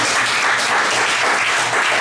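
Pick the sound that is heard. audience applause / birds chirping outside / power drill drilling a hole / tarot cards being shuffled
audience applause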